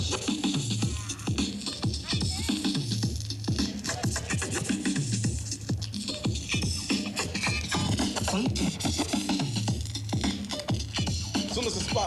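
DJ turntable scratching over a funky backing groove, quick rhythmic scratches cutting back and forth across the beat at a moderate, steady level with no talking.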